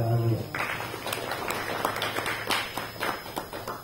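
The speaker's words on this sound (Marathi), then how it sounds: "गोळवलकर गुरुजींकरता टाळ्या वाजवूयात" An audience at a kirtan gathering breaks into applause for Golwalkar Guruji: a dense wash of many hands clapping, steady and moderately loud for several seconds after a brief tone at the start.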